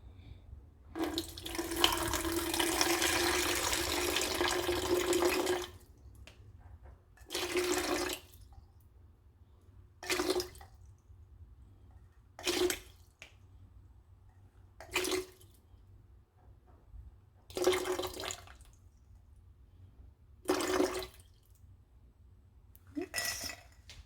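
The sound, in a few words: water running into a container, measuring water for soap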